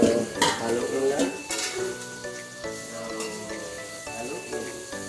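Food stirred in a frying pan after the broth has cooked down, with a soft sizzle and clinking scrapes of a utensil against the pan, close but moderately quiet.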